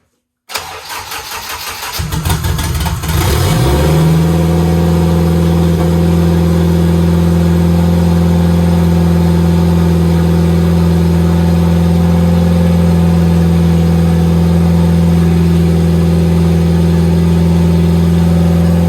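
A car engine, just back together after a gasket repair, cranks briefly and then catches, rising quickly into a loud, steady idle that holds close and unbroken for the rest of the stretch, with no talking.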